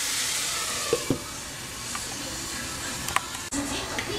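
Chettinad egg curry simmers in a pan, giving a soft, steady sizzle and hiss with a few faint clicks and stirring taps.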